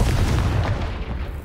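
A Confringo blasting spell explodes in the video game Hogwarts Legacy: a loud, heavy boom with a broad rumbling burst that fades slowly.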